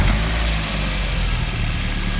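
A Mk1 VW Golf Cabriolet Rivage idles steadily after a cold start, with a close, even low engine rumble that holds without revving for a couple of seconds.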